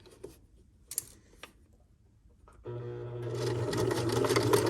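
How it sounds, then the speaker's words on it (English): A sewing machine stitches down a French seam, starting after a few soft clicks and handling noises, then running in a loud, steady, close whir of rapid needle strokes to the end. "So now we're going to just stitch this down."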